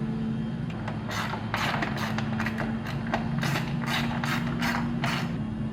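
A ratchet clicks in quick repeated bursts while tightening the factory T30 bolt on a light bar bracket of a 2025 RAM 2500/3500 HD pickup, close-up over a steady low hum.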